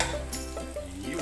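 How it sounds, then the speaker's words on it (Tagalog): Peeled shrimp hitting hot garlic oil for Filipino-style spicy gambas, giving a steady close frying sizzle that holds evenly throughout the short moment. "Lagyan na natin yung hipon."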